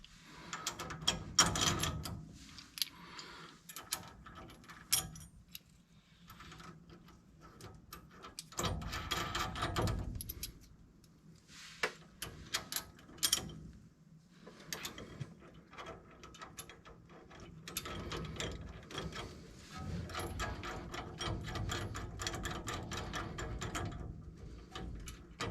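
A hand ratchet clicks in repeated bursts while tightening brake bracket bolts during a disc brake conversion on a 1965 Ford F100, close and fairly quiet, with pauses between runs of rapid pawl clicks.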